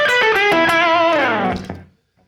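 Short blues lick on a distorted electric guitar, a quick run of bent, sustained notes that fades out after about two seconds, loud and alone.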